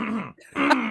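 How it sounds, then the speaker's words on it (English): A man clears his throat into a live microphone, two close, loud rasping bursts separated by a brief pause. "I gotta clear my throat, and I can't mute this mic."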